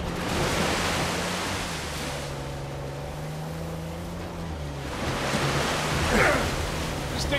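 Waterfall in the Uncharted video game, heard as a steady broad rushing roar of falling water, constant and fairly faint, with a low droning tone beneath it and no voices.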